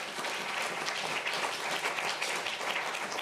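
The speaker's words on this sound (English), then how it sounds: "Give me a round of applause." An audience at a British Academy Book Prize event gives a round of applause, a steady wash of many hands clapping that holds at moderate volume throughout the short stretch.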